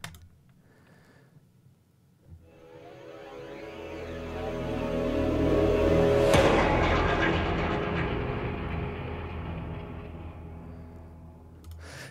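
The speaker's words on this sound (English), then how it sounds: "Now let's try a pitched riser just for fun." A pitched riser effect from the Vir2 Phoenix library swells gradually from a quiet start, its tone climbing as it grows louder to a peak around the middle, then slowly fading out over about twelve seconds.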